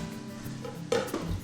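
Meat and garlic hit a hot pan and begin to sizzle, a soft steady frying hiss punctuated by clinks of a utensil against the pan, close and moderately quiet.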